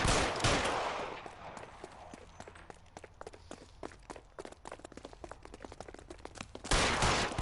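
Gunfire in the video game L.A. Noire: a rapid scatter of sharp shots, loud bursts at the start and end and lighter cracks through the middle, with some running footsteps.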